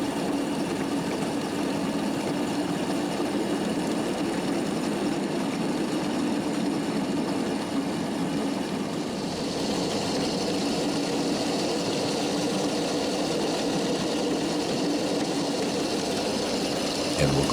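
A train engine idling on a railroad route used for public rides, a loud continuous low rumble and drone with a faint rise in high hiss partway through.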